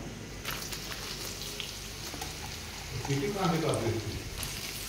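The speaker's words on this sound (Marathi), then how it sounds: "लसूण आपला चांगला फ्राय झाल्यानंतर कापलेला कांदा त्यात ॲड करूया" Chopped onion with finely cut garlic frying in a pan for a spicy chicken rassa, a steady dense sizzle throughout that swells slightly louder near the end, with no one speaking.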